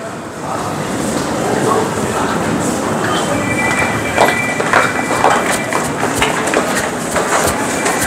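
A train pulls into a station platform with a steady rolling rumble and scattered clanks and squeals. A voice talks briefly over the noise.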